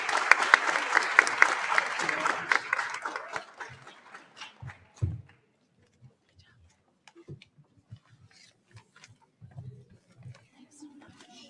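Audience applause for panelists at an international law conference on the status of women, a warm burst of clapping that fades out after about four seconds, followed by scattered movement and quiet voices nearby.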